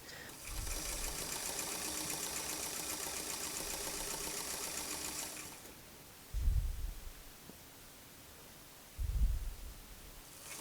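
A sewing machine stitches a zipper close along its coils while making a tucked, ruffled dress, running steadily for about five seconds before stopping, followed by two soft low thumps.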